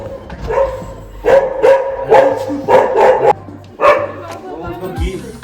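A dog at a family festival gathering in Uttarakhand barks in a series of loud, close bow-wows and yips in several clustered bursts, with people talking around it.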